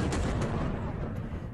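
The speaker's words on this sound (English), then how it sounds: "Footage shows a huge explosion at the Black Sea port." A huge explosion at a Black Sea port in occupied Crimea, a loud, heavy, rumbling blast that fills the short clip and fades slightly toward the end.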